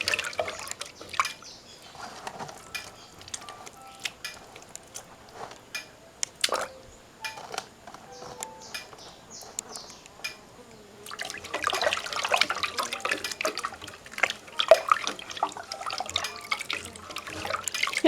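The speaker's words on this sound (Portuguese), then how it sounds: "e desmancho ela num pouquinho só de água" Cassava puba being dissolved by hand in a little water in a kitchen, with irregular drips, splashes and wet sloshing, quieter at first and busier and denser toward the end, no talking.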